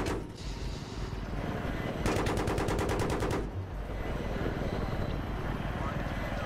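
Rapid automatic gunfire in the Battlefield 3 video game, a burst of evenly spaced shots lasting over a second amid continuous helicopter rotor and engine noise, with other gunfire and voices in the mix.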